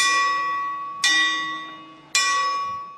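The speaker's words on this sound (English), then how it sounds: "a single bell rings" A single monastery church bell on Mount Athos, Greece, struck three times about a second apart, each loud metallic clang ringing on and fading before the next.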